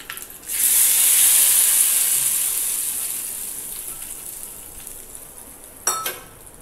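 Hot oil tempering with curry leaves poured into snake gourd koottu, a sudden loud sizzling hiss that bursts up and slowly fades, followed by a brief clatter near the end.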